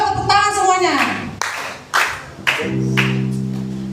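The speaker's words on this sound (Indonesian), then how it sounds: "Yuk tepuk tangan semuanya." A church congregation claps hands, a few sharp claps standing out while a voice speaks or sings in a drawn-out tone before and around them.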